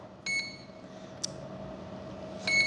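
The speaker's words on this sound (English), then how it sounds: "Do you not want to hear that beep?" A hobby RC radio transmitter gives three short electronic beeps, evenly spaced over a quiet background hum, close and moderately loud.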